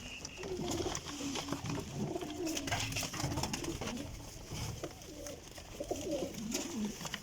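Pigeons coo in a steady stream of soft, throaty, overlapping calls, with faint background chatter and scattered clicks mixed in.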